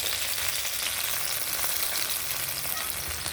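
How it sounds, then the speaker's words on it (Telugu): Curry leaves dropped into hot oil for tempering give a loud, steady, crackling sizzle, close up and without talk. "ఫస్ట్ కరివేపాకు వేస్తున్నాను."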